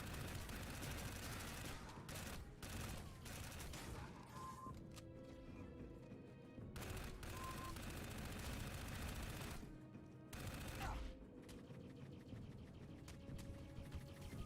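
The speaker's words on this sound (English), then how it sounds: "Stop shooting me." Rapid bursts of gunfire in the video game Dark Void, dense volleys running almost without pause, broken by a few brief gaps.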